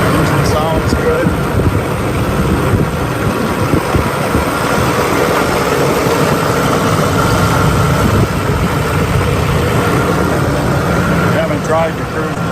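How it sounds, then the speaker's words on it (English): A muscle car engine idles with a steady low rumble that stays close and continuous, while people talk over it. "Engine sounds good."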